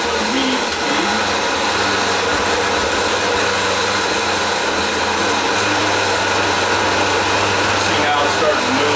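Countertop blender running steadily at medium speed, blending spinach and kale, a continuous dense motor whine and churning that stays loud throughout with little change.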